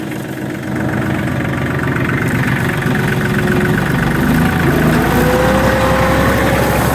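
A four-wheel-drive tractor engine drones loud and steady while pulling a plow through a field, its low rumble constant and close throughout with slight shifts in pitch as it works.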